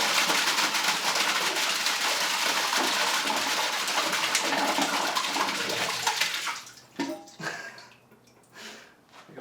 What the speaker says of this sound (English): So let's go ahead and flush it.